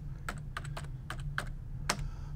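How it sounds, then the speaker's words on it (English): Typing on a computer keyboard while entering a search term for research articles: about seven distinct keystroke clicks in an irregular burst, close and clear over a steady low electrical hum, with no voices. "I'm going to type in research"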